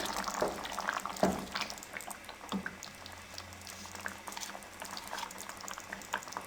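Green chickpeas boiling in a pot of curry, a steady bubbling and popping that carries on without talk, with a couple of louder bursts near the start.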